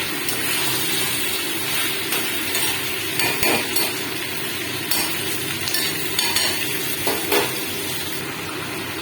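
Chicken kosha with fried potatoes sizzles in hot oil while being stirred, with steady frying hiss broken by the scrape and clatter of a spoon against the pan.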